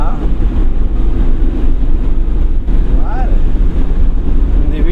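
Strong wind buffeting the microphone during a driving lesson in a moving car, a loud steady rumble throughout with brief faint voices in the background.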